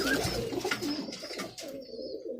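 Several pigeons coo nearby in low rolling calls that overlap and repeat irregularly, with no one speaking.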